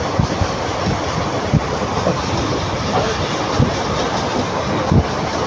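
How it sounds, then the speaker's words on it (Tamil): A train on the Karur to Mangalore route rumbles along at speed in the dark, with a steady roar and intermittent clicks and clunks from the wheels on the rails. "ட்ரெயின் பறக்குதுங்க"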